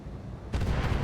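Missiles hitting a mech in the video game RogueTech: after half a second of low rumble, a burst of heavy impacts and blasts breaks in and holds dense and loud to the end, with no voices.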